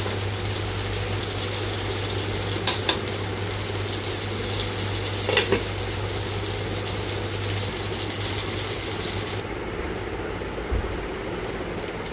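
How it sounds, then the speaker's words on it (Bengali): Fish seasoned with salt and turmeric fries in hot oil, giving a dense, loud, even sizzle like rushing water, with a few brief clatters and a steady low hum that fades near the end. "মাছটা ভাজা হয়ে গেছে, এটাকে আমি নামিয়ে নিলাম"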